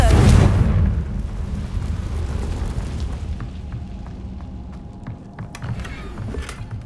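A Confringo blasting spell in the video game Hogwarts Legacy bursts in one loud boom at the start, then fades into a rumbling tail with faint crackles.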